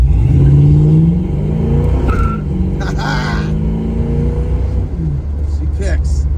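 A 1966 Chevrolet Nova pulls away from a stop, its V8 engine revving hard through rising and falling gear pulls, close and loud, with a brief voice and road rumble beneath.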